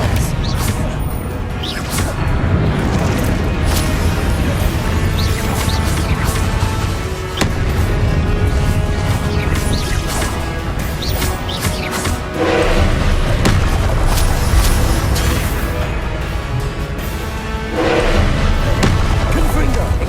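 Hogwarts Legacy spell combat, with repeated booming spell blasts, thuds and whooshes mixed with game music and spoken spell incantations throughout.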